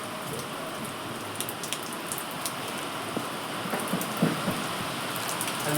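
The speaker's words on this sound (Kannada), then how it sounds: "ಮಳೆ ನೋಡ್ರಿ ಇಷ್ಟು ಬರಕತ್ತೈತಿ." Heavy rain pours down steadily outdoors, a dense, even hiss of drops striking surfaces with scattered louder splats, continuous throughout with no talk.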